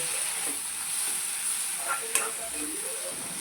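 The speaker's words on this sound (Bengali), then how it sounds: "দিয়ে এটা ভালো করে আমি 1 মিনিট ভুঁজে নেব।" Spiced shrimp frying in a pan with turmeric and chili powder, a steady soft sizzle with occasional stirring scrapes and a brief clink, no talking.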